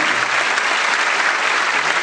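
Dense, steady applause from a large audience at a Catholic diocesan Renewal congress in Maringá, a continuous wash of many hands clapping at full volume with no voices standing out.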